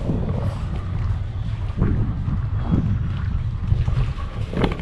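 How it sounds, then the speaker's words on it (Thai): A cool breeze blows along a riverside in Pathum Thani, Thailand, producing a steady low wind rush with soft buffeting against the microphone and no voices. "บรรยากาศ ลมรื่นลมพัดเย็นมากเลยนะทุกคน"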